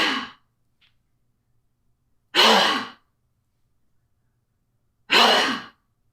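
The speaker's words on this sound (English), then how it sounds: "you can at least exhale very loud. Exhale all the air out." Three loud, forceful breaths pushed out through the mouth during a yoga class for back health, evenly spaced about two and a half seconds apart with silence between, close and without talk.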